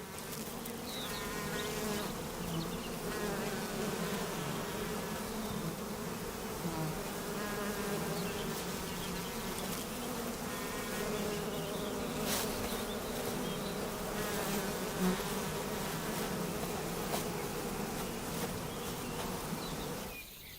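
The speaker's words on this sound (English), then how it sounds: "Bumblebees can defend themselves and sting." Bumblebees buzz continuously in the Carpathian Mountains, several overlapping droning hums that rise and fall as insects move near and away, with no talk.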